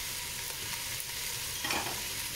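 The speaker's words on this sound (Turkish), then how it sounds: "Kavuruyorum." Meat sautéing in a pan for çiftlik kebabı, a steady broadband sizzle with light stirring scrapes, close and continuous with a slight swell near the end, no voices.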